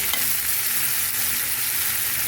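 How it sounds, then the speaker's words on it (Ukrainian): Steady, dense sizzling of onions frying in a pan, a continuous crackle with no voices. "І цибулька вже піджарюється."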